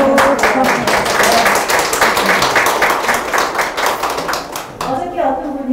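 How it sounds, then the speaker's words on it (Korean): Crowd applause at an art exhibition commemorating a painter, with distinct rhythmic clapping from a smallish group, fairly close and steady, pausing briefly near the end before resuming, with some voices mixed in. "박수"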